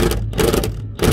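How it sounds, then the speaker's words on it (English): An impact wrench rattles on its lowest setting while removing bolts on a dirty daily-driver car in a garage, giving a fast, continuous hammering burst with short pauses, close and loud. "we'll just try impacting it out now"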